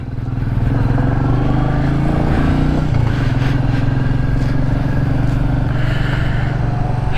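A Royal Enfield Meteor 350 single-cylinder motorcycle thrums along on a test ride with a steady, loud, low engine drone that varies slightly in pitch as it rides, heard close up without speech.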